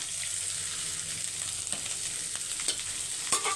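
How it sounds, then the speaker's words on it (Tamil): Vegetables sauté in a pan for a Tamil home-cooked meal of sambar rice, ridge gourd kootu and potato fry, giving a steady close sizzle with a few stirring scrapes toward the end. "இப்போ இதை நல்லா வதக்கி எடுக்கணும்"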